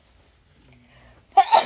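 A single person's sneeze bursts out near the end, loud and close after a stretch of near silence with faint murmuring.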